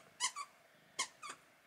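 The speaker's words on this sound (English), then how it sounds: "And Lion likes a squeaky toy" A squeaky toy squeaks in two quick bursts, each a pair of sharp, close squeals separated by a pause, over a quiet room with no talking.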